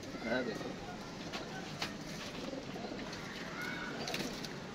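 Pigeons coo softly in a loft, low and steady, beneath someone talking nearly throughout.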